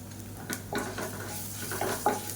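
Garlic fries in a pan with asafoetida, mustard seeds and curry leaves, giving a soft, steady sizzle broken by a few stirring scrapes, quiet and close, with no talk.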